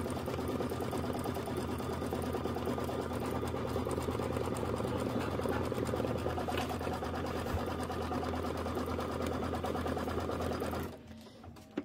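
An embroidery sewing machine stitches the quilting background on a Kimberbell autumn quilt block, a steady loud mechanical whir and rapid needle chatter running continuously for about eleven seconds before stopping abruptly.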